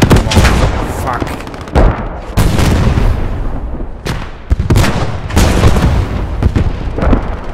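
Heavy 8.8 cm Flak 36 gun blasts in the Post Scriptum war game, a series of loud, close booming shots roughly every second or two amid ongoing battle noise.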